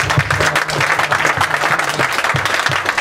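A church congregation claps and cheers for Jesus, a dense continuous burst of applause throughout, with a low hum of crowd noise underneath.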